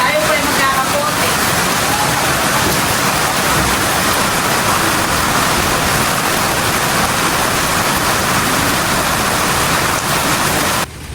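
A downpour of heavy rain falls near a fishpond, a thick steady roar of drops on surfaces that holds unbroken and loud until a brief drop at the very end.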